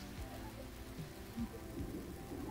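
Heavy rain pours steadily and close by, a dense, continuous wash with low rumbling underneath that suggests thunder, with no talking over it.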